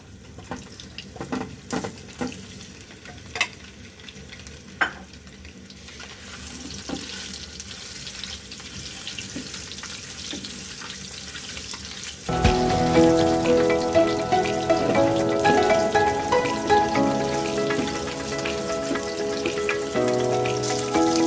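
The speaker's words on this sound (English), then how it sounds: "We're going to fry the eggs first." Eggs frying in about three tablespoons of vegetable oil in a pan, crackling and spitting steadily, with a louder, denser sizzle after the eggs go in partway through; no talking.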